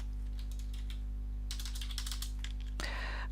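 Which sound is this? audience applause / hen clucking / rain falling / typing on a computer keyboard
typing on a computer keyboard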